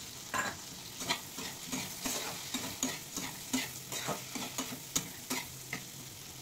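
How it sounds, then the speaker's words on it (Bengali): A pan of shrimp and chili sizzles as a spatula stirs it in quick, regular scrapes and knocks, close up and with no one talking. "সব কিছু মিশিয়ে ভালোভাবে ভেজে নিয়েছি"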